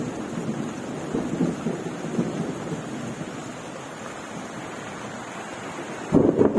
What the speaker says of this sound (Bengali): দেখতেই পাচ্ছি কিরকম বৃষ্টির সাথে সাথে মেঘের গর্জন।